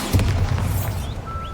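A Bombarda spell goes off in Hogwarts Legacy, a single deep booming blast with a rumbling low-end tail that fades quickly, alone with no talk.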